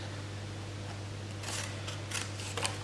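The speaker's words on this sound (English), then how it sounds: "cut off the end and this end." Scissors snipping through card stock while trimming the ends of a lined gift box with a flush-fitting lid, a few short close cuts over a steady low hum.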